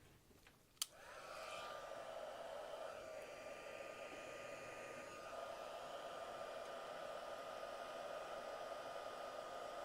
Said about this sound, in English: Grab our heat tool.